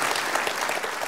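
An audience at a women's club comedy premiere applauds, a dense, loud burst of clapping filling the whole moment with no talk over it.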